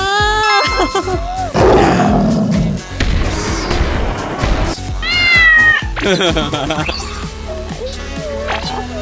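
A person imitates a cat, voicing several playful meows close up, with lively talk and other voices around them.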